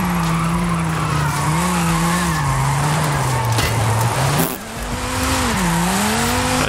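A car in Forza Horizon 5 speeding up and drifting downhill: a loud, sustained tire squeal over a revving engine, dipping briefly before the screech swells again.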